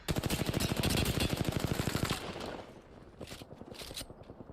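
Rapid automatic gunfire in Apex Legends, a loud dense burst of shots for about two seconds, then quieter scattered game sounds and a few sharp bursts, with no talk.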